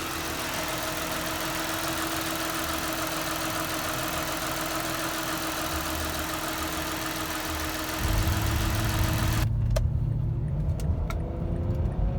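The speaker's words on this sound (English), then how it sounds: "the engine itself sounds like, you know, a smooth running sewing machine" Mazda CX-9 3.5L–3.7L V6 idling after a water pump and timing chain job, a steady even hum that deepens and grows louder near the end with a few sharp clicks.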